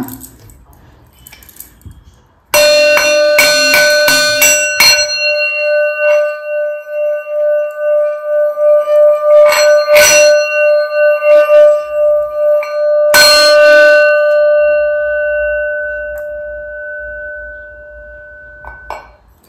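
A small ringing bell used during a tarot card reading sounds loud and close: a rapid cluster of strikes, then single rings later, each leaving a bright, sustained tone that slowly fades.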